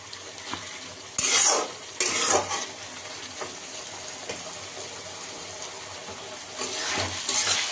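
Cauliflower and potato curry stirred in a pan with a little water, bursts of scraping and sizzling as the spoon works the pan, quieter gaps between, louder again at the end.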